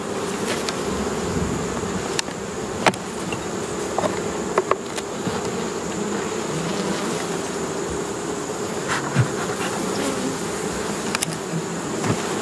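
Steady buzzing of many honeybees close by at a hive, a continuous drone with occasional louder passes of individual bees, no voices.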